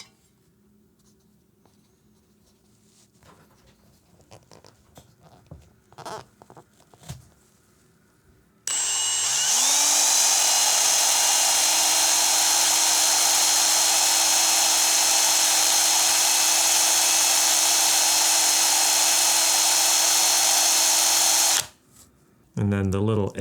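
A drill spins up and runs steadily for about thirteen seconds, loud and close with a high whine, to polish an RC car's suspension shock shaft, after quieter handling clicks and taps, stopping abruptly then briefly restarting.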